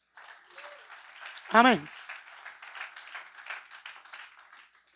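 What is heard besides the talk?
church congregation applause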